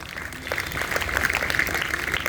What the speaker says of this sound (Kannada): ಎಲ್ಲರೂ ಜೋರಾಗಿ ಚಪ್ಪಳೆ ತಟ್ಟಿರಿ